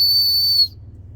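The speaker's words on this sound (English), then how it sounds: "we have a whistle, a small whistle" A small whistle blown once in a steady, piercing shrill tone for over half a second, then cut off, leaving a low background hum.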